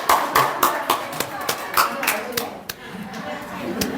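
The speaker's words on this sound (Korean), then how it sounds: "여러분 큰 박수로 환영해 주십시오." A church congregation claps in welcome during a Sunday service, with steady clapping under spoken voices and a few louder, sharper claps standing out.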